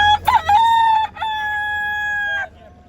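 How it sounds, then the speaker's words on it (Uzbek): A rooster at a poultry market crows loudly and close, one long drawn-out call after a short clucking start, with faint background noise. "Xorozlar hammasi. Xo'roz, ha. Xorozlar mana."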